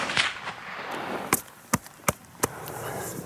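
A .270 Winchester rifle fires at a red deer during the roar in New Zealand hunting country: several sharp, loud cracks ring out in an irregular series in open air, with no talk over them.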